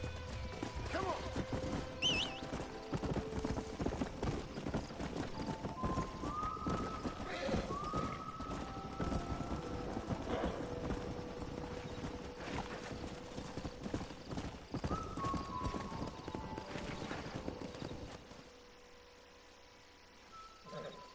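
In a Western open-world game, a stallion's hooves clip-clop steadily on the ground with repeated neighs and whinnies, a busy outdoor scene with other horse sounds, calming toward the end.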